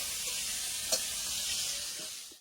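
Fish frying in a pan, a steady soft sizzle of hot oil throughout with one brief louder pop near the start, quiet and close with no voices.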